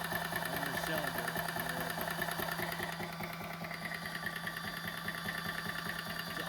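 A small high-pressure air compressor for filling air gun cylinders runs continuously, a steady mechanical hum with a rapid pulsing knock, close and even in level, with a voice talking over it.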